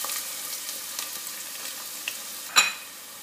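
Onion frying in hot oil in a soup pot, a faint steady hiss with a few light clicks and one sharper clink near the end, no voices.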